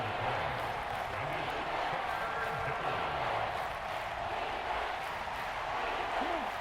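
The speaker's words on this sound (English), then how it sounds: "The Arrowhead crowd in full roar" A stadium crowd roars at Arrowhead in Madden NFL 24, a steady, dense wash of cheering that holds at one loud level throughout, with faint talk underneath.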